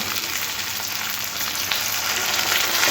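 Vegetables sautéing with ginger and cumin paste in a pan for a singi fish curry with green banana and potato, a steady close sizzle and fry throughout with faint stirring.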